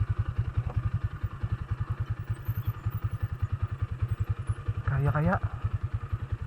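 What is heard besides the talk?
off-road motorcycle engine running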